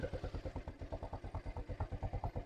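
A motorcycle engine idles low and slightly rough, a steady, even chugging pulse of about eight to nine beats per second, close and fairly quiet, with no talk over it.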